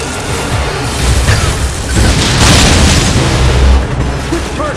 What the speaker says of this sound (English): Now, use your missile!